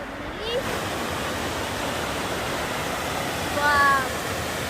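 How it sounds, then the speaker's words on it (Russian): Waterfalls on a river in a rocky canyon at the Zhigalan falls, the water dropping from stone ledges: a dense, continuous rushing roar with a brief whistle-like voice sound rising near the end. "В этом месте река течет в скалистом каньоне с шумом и брызгами, падая с каменных уступов"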